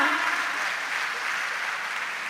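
An audience at a poetry event applauds steadily, a dense and even wash of clapping that holds at the same level from start to finish.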